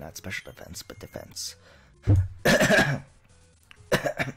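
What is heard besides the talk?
throat clearing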